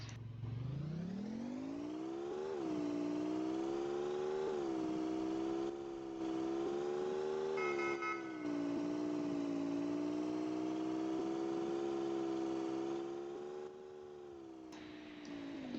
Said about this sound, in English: I'm going to be quiet for a second so that you can notice how good this car sounds.